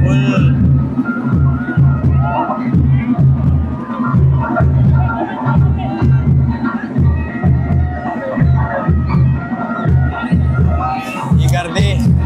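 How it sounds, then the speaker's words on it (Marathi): Huge dense crowd at a Ganpati arrival procession in Chhatrapati Sambhajinagar, a loud continuous roar of voices over steady rhythmic pounding drumbeats, with scattered shouts and a burst of higher noise near the end. "ही गर्दी नेक्स्ट लेवल."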